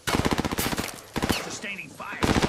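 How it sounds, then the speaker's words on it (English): Rapid bursts of automatic gunfire from Call of Duty Warzone crack close and loud in several rhythmic volleys, separated by short gaps filled with quieter game sounds. "Those bastards are shooting at me"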